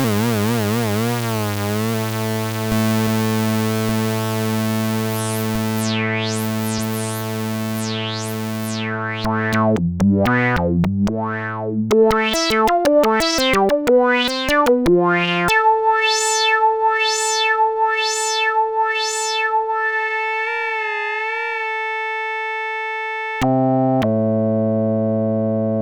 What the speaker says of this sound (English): So we heard the 5th sweep pad.